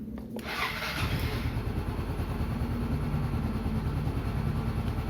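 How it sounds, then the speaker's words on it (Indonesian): Motorcycle engine cranked by its electric starter, a brief whirring crank that catches within about a second and settles into a loud, steady idle close by, with no talk. "sekarang kita starter untuk motornya"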